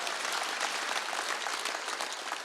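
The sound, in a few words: audience applause in church service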